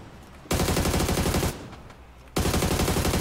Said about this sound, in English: We're getting fucking hammered by some guns.